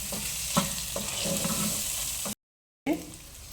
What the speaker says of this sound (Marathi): आणि परत मी थोडंसं परतत आहे